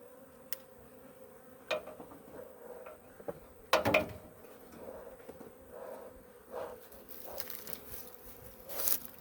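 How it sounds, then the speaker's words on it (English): Bees hum faintly around an opened beehive during a smoker check, a soft drone broken by scattered taps, clicks and handling knocks near the hive. "We've got some curious bees poking their heads up out of there."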